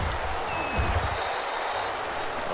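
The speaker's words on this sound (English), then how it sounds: "How about some applause for the defense there?" Crowd applause from a stadium in the football video game Madden NFL 21, a steady wash of clapping and cheering that stays at an even level throughout, with no talk over it.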